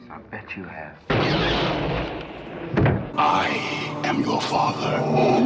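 Blaster fire from a Star Wars film: booming bursts and crackling shots over dramatic film sound, with voices mixed in and a loud eruption that carries on to the end.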